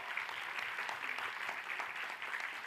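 An audience at a quiz event applauds, a steady patter of clapping at moderate distance with no voices over it.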